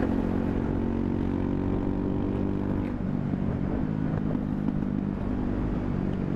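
A Ducati Hypermotard 690 Mono RVE motorcycle on a winter ride in Arizona, its engine droning steadily and loudly up close throughout with a continuous harmonic hum and no talking.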